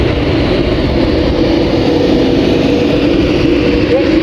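Class 390 electric train at Milton Keynes Central on the West Coast Main Line, a loud steady rumble and roar of the unit moving close by, continuous throughout.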